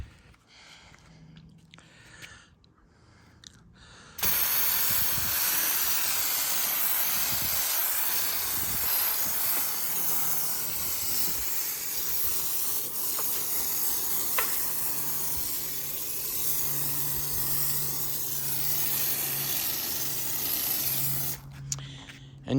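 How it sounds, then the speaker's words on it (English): An IK foam sprayer spraying very high alkaline Kokemi Green Star cleaner onto the undercarriage of a Subaru WRX STI gives a loud, continuous hiss that holds steady for about seventeen seconds and then cuts off, with no talking. "Kokemi Green Star, very high alkaline, in the IK alkaline foam sprayer."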